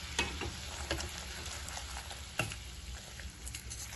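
Caramel for a plum cake is stirred in a pan just after the gas is switched off, producing a soft continuous sizzle with a few sharp scraping clicks of the spoon, close and fairly quiet, without talking.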